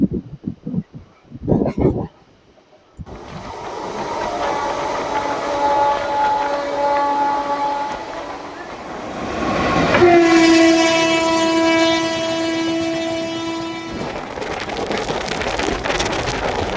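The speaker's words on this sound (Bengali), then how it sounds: "ঠিক টাইমেই ট্রেনটি হাওড়া থেকে ছেড়ে দিয়েছে। আর এই মুহূর্তে আমরা হাওড়া থেকে বেরিয়ে যাচ্ছি।" A train pulls out of Howrah station with rain falling, sustained horn blasts sounding twice over rolling wheel noise and a steady rush, after a few sharp knocks at the start.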